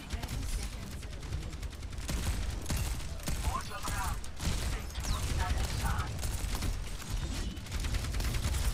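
Rapid, dense bursts of gunfire in Overwatch 2 rattle on continuously, layered with mechanical clicks and game effects, busy and fairly loud throughout.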